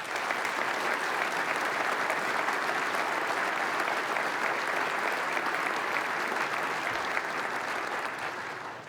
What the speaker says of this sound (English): I ask that you give them all a round of applause